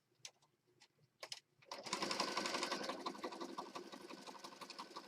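A sewing machine stitches down the sides of a handmade Christmas junk journal. A few light clicks and taps come first, then a steady, close whirring run of rapid stitching that carries on to the end.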